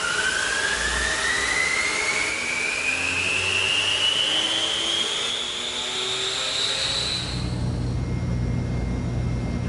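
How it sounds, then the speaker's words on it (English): A powered air mover blows air to ventilate an enclosed space, making a loud, steady whooshing roar that runs the whole time, with a whine that climbs slowly in pitch. "If you have one, an air mover can speed up the process."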